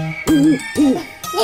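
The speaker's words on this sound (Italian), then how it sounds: "O fa il gufo, fa il gufo." An owl hooting in a children's song: three close, clear hoots with rising and falling pitch, each about a third of a second, over a soft musical background.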